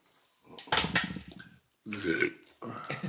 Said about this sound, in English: Is that quiet belch?